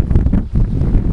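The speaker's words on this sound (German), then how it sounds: "oh, es ist windig, wahrscheinlich hört man nichts" Heavy wind at the Sorpesee lake in the Sauerland in summer buffeting the microphone, producing loud low rumbling gusts with no other clear sounds.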